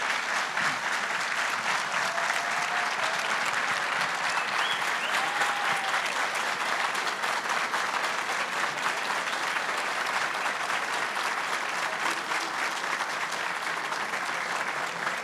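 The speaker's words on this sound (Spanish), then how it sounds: "Muchas gracias" Sustained audience applause at a book launch event in Santiago, steady and dense throughout, moderately distant with no voices standing out.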